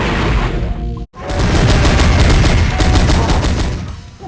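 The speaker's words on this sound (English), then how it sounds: "This guy firing at me now is one of the weaker enemies" Rapid enemy gunfire aimed at the player in the Sega Saturn game Powerslave, a dense rattling burst of repeated shots following a brief cutoff, loud and continuous for several seconds with no speech.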